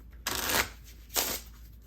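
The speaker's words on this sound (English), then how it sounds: "We'll give it one more shuffle for good measure." A deck of playing cards is shuffled in two riffling bursts, each about a third of a second long, separated by a short pause, close and clear with no talking.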